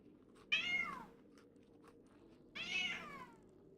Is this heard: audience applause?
no